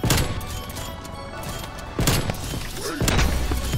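Sniper rifle shots in Call of Duty Cold War: dense, loud game gunfire with heavy thumps, including sharp new bursts around two and three seconds, over constant battle noise.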